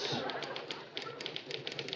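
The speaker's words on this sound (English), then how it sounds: "you're putting labels in my typewriter." A manual typewriter clatters in an office setting, a quick irregular run of sharp key strikes at moderate distance over a faint background hum, with no one speaking.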